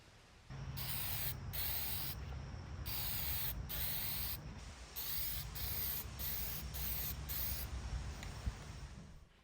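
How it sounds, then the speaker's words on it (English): An aerosol can sprays one thin coat of lacquer onto a gold-leafed picture frame outdoors, sounding as about ten short, close hissing bursts separated by brief gaps, with no voices. "Now I'll bring the frame outside and hit it with one thin coat of lacquer."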